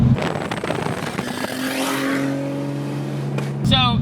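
A single-turbo BMW 328is engine runs and revs steadily, its pitch climbing smoothly as it accelerates, loud and close, with a brief sharp squeal near the end.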